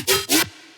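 Serum synth bass played without its high notch EQ, two punchy bright bass stabs in quick succession, close and loud, followed by a short fading tail.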